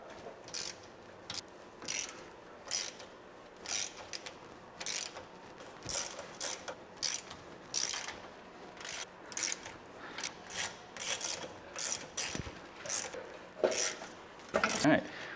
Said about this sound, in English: we're going to remove all of the bolts holding the differential cover on. For this, I'm using a 1/2 inch socket.